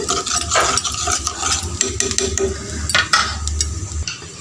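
Chilli powder fries in oil over a low flame for a chicken thanni kuzhambu, a steady soft sizzle with repeated scraping and stirring strokes in the pan, close and fairly loud, with no talking.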